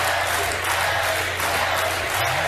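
A crowd cheers and applauds Prince Harry in a steady, dense wash of clapping and voices that holds at a fairly even loudness throughout.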